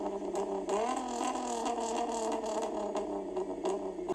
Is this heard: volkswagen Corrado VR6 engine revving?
yes